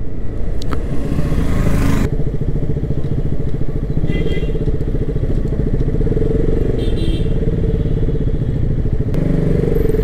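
Heavy road traffic near Ooty in the hills, dense with motorcycles, fills the scene with a steady close engine drone and clatter, with bursts of revving and faint horns throughout.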